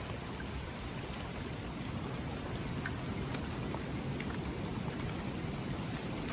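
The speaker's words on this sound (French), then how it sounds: "Pluie modérée à forte." Steady, moderate to heavy rain from a winter storm pours down continuously, a dense wash of drops with no voices, and the downpour stays constant throughout.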